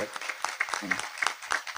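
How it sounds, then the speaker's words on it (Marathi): An audience at a live Akhand Harinam Saptah religious gathering in Kushtha, Amravati, gives a short burst of applause, a dense, rapid patter of many hands at moderate distance, with a voice faintly mixed in. "एकदा टाळ्या वाजवा सर्व"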